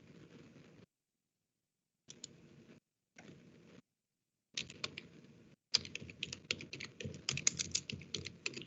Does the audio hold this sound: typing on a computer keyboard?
yes